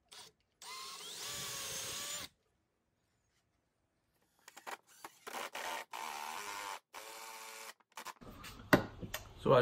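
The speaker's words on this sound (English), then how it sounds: "So I drill these until they start to come out this side, stop." A power drill whirs in several short bursts separated by silence, close and fairly loud, drilling screw holes through a shop cabinet drawer with a jig, with brief pauses between holes.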